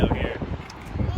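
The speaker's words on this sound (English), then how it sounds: "Windy out here." Strong wind gusts buffet the microphone on a hilltop in Malaga, Spain, a loud rumbling roar that rises and falls with brief talk mixed in.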